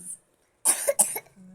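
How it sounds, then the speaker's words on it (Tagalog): A small child coughs indoors, two or three quick close coughs after a brief sound, with no talk during the coughs. "Oh, may ubo pa siya."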